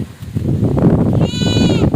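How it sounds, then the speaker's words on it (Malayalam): A Malabari goat, a hornless doe that has just kidded for the first time, bleats loudly and close by, a single wavering cry rising out of a noisy farm background. "പ്രസവിച്ച ഒരു മലബാറി മോഴ ആട്"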